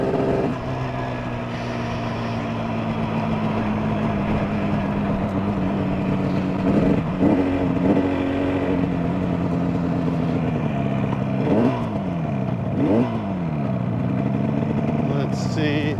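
A two-stroke engine roars at high revs, loud and close, with the pitch sweeping up and down through several throttle blips over a continuous droning exhaust.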